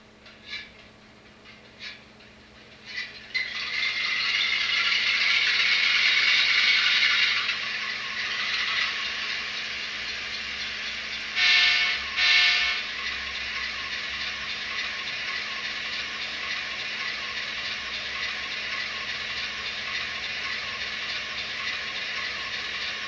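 An HO scale C40-9 model locomotive runs with a steady, close mechanical whir and gear rattle, a few light clicks at the start and brief louder buzzing bursts partway through.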